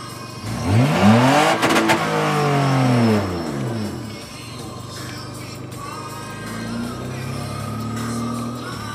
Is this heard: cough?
no